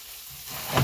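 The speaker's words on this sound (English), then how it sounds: "That's sizzling away nice, you can hear that." Garlic, ginger, peas and onion sizzle in hot vegetable oil in a pan, a close, bright crackling hiss that swells louder toward the end of the short moment.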